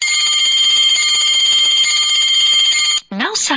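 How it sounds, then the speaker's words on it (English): An electric bell wired to a switch rings inside a glass bell jar, a steady loud continuous metallic ringing for about three seconds before cutting off, followed by a brief voice. "On pressing the switch, you will be able to hear the bell ringing."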